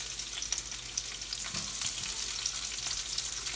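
Onions frying in a small amount of oil for a sautéed steak and vegetable dish, a steady, moderate crackling sizzle with faint stirring scrapes.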